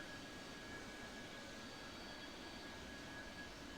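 An AV-8B Harrier jet engine in a video game, a steady, even roar with a thin high whine running through it, holding constant throughout as the aircraft rolls for takeoff.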